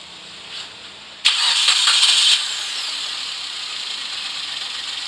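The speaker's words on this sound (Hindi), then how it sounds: "स्टार्ट करें।" Maruti WagonR engine starting, with a coolant reservoir overflowing and the engine misfiring: a faint tick, then a sudden loud crank-and-catch burst lasting about a second, settling into a steady idle hum.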